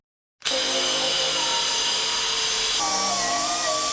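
A power tool cuts a metal bracket during a BMW 1M front end rebuild, a loud, steady high-pitched whine that starts abruptly and runs continuously, its pitch shifting slightly partway through.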